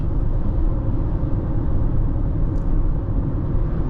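Steady broadband rumble of tyres on the road and wind rushing past a 2024 Honda CR-V Sport L Hybrid at about 65 mph, heard from inside the cabin, constant and fairly loud.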